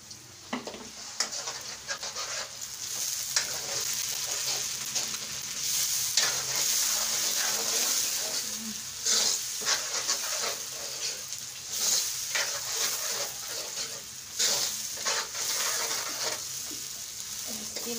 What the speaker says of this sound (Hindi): अब मैं इसी प्याज के साथ डालूंगी चॉप किया हुआ ये टमाटर